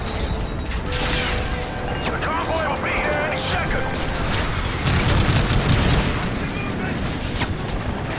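Grenade blasts and gunfire in Modern Warfare 3 story combat, with booming explosions and steady rattling shots layered under shouting voices throughout.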